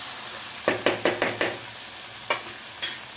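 Pav bhaji masala with chopped tomato frying among cluster beans (gavar) in a pressure cooker, stirred with a spoon that knocks the pan in a quick run of five taps, then two more, over a soft steady sizzle.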